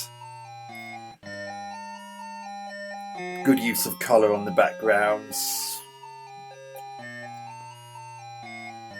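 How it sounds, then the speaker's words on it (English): Bleepy square-wave in-game music from the ZX Spectrum 128K version of Target: Renegade loops a bouncy melody over a buzzy bass line, while someone briefly talks over the middle. "there's the in-game music which I mentioned, which is exclusive to the 128K version"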